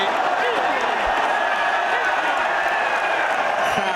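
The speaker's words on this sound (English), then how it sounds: "Crowd going ballistic." A large golf gallery at the 2018 Ryder Cup roars and cheers in a steady, dense wall of crowd noise, with a commentator talking over it.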